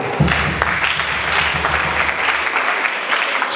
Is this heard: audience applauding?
yes